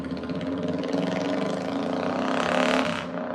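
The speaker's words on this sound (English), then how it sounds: "There's motorcycles." Engines of motorcycles passing along a city street on a mild day, a dense steady roar that swells and peaks near the end before dropping away.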